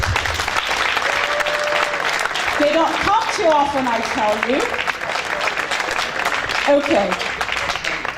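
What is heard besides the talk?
audience applause for Eric's award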